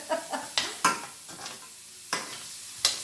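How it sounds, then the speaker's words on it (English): Onions land in a hot pan with sausage, giving a soft sizzle broken by several sharp scraping stirs and clinks of a utensil against the pan at irregular intervals. "Throw in the onions."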